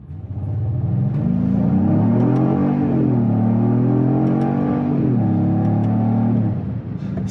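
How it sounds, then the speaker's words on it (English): A Genesis GV70 pulls away from a standstill, its turbocharged engine note climbing steadily through two rising sweeps of revs. The sound is close and loud inside the cabin, tails off at the end, and has no talking over it. "Like it takes a beat before it kind of spools up the turbos and goes."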